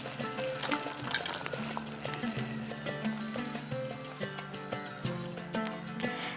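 Fried paneer pieces go into a simmering methi gravy for a vegetarian malai paneer dish, giving a steady soft sizzle and bubbling under continuous background music.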